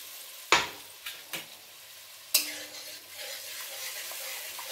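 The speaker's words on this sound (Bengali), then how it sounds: "এইভাবে আমি মশলাটা কষিয়ে নিই।" Spice paste sautéing in a pan after water is added, with a few sharp scraping stirs of a spatula early on, then a steady soft sizzle continuing close by.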